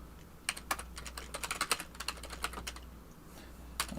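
Quick, light taps on a computer keyboard while programming an interpreter, coming in uneven bursts of keystrokes with short pauses, close and fairly quiet, with no voice.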